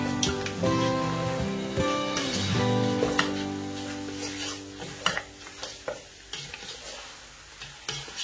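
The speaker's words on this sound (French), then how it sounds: "Nous allons bien tourner pour que la tomate puisse bien se mélanger à nos viandes" Tomato sauce with meat, made West African style, simmers in a pot while being stirred, giving a bubbling sizzle with a steady tonal hum early on, then scraping spoon strokes and soft knocks against the pot.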